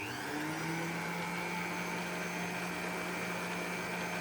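Stand mixer running on low speed mixing cocoa rye sourdough dough with bread flour and water, a steady, continuous motor whir and hum throughout.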